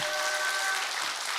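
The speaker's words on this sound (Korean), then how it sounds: "박수로 함께 한번." Audience applause during a gathering at a fasting prayer retreat, a dense, steady wash of many hands clapping together, fairly soft and with no voices over it.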